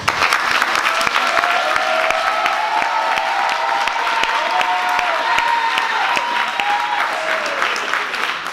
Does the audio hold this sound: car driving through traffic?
no